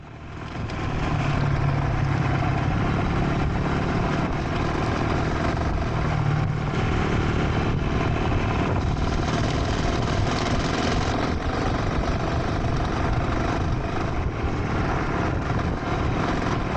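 Beta Alp 200 and KTM Freeride 250 off-road motorcycles ride a green lane near a reservoir, their engines droning steadily and loudly throughout with wind rush and no talk.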